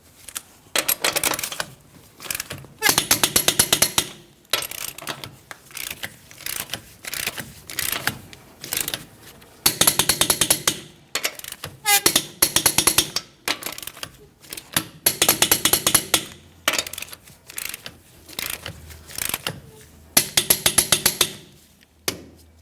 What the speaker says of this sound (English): Let's go ahead and torque each one of our lug nuts to that 148 foot-pounds.